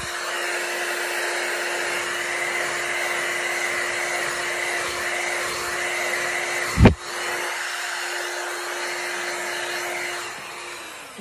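A heat gun blows steadily across wet paint in a bloom pour painting, giving a constant close, airy hum with a sharp knock partway through before the blowing continues.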